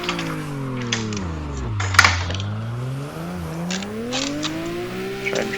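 A car engine pulling out of a drift at Ebisu Minami circuit, droning steadily, dipping in pitch, then climbing again as it accelerates, with brief clunks and rattles over the top.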